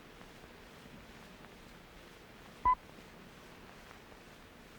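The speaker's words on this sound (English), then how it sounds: "Start your stopwatch precisely when you see the dot and hear the tone." A single short electronic beep, a clean pure tone, sounds once midway through a quiet background hiss.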